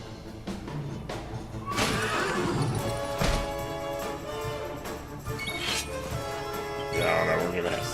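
Horse in Dragon Quest XI S neighs and whinnies loudly over galloping hoofbeats and game music, with a couple of sharp whinnies standing out near the start and middle of the continuous mix.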